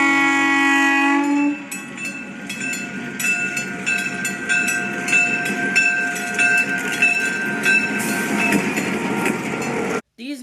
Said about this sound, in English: These new diesels were made to revolutionize rail travel and be more efficient than the common steam locomotive